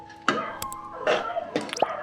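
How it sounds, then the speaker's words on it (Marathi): Water splashes and drips into a pan of black chana curry in a few short bursts, close by, with gentle liquid plops between them. "आपल्याला याच्यामध्ये ॲड करायचं आहे पाणी"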